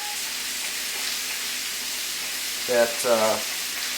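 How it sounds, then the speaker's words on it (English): Garlic sautés in a pan with a steady, close sizzle and hiss, and someone speaks briefly near the end over the frying. "So I want to saute up some of this garlic"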